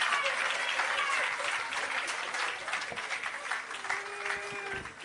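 A crowd at the opening of an agro park in Clarendon, Jamaica, applauds the Prime Minister, a dense, even wash of clapping that stays steady throughout, heard at a moderate distance in an open outdoor setting.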